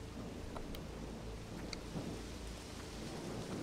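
Thunderstorm with rain in the horror game Pineview Drive: steady heavy rainfall hiss with low rolling thunder rumbling underneath and a few sharp crackles, continuous and fairly loud, no voices.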